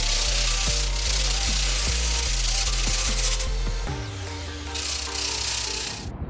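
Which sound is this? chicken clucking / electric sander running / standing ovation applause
electric sander running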